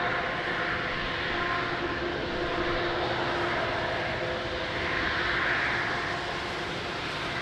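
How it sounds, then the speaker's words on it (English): An Airbus A330 taxis across a runway at Lisbon Airport in the rain, its engines giving a steady, broad, moderately distant roar that swells slightly and fades without a break. "Beautiful 330, a runway crossing."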